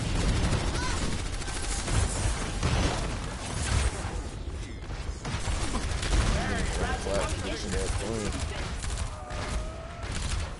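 Dense barrage of gunfire and bursts during a video game match, loud and continuous with overlapping shots and impacts, while a voice talks throughout.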